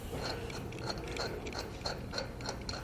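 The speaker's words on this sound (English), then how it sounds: "Slide it on, then we'll add our lug nuts." Ratchet clicking in quick repeated bursts while lug nuts are run onto a Malone EcoLight Sport trailer wheel, close and fairly faint, with no talking.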